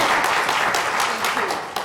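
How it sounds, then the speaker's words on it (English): Brief burst of audience applause at a talk on global languages and careers, steady dense clapping throughout with a sharp clap near the end. "let's give an applause to each of them"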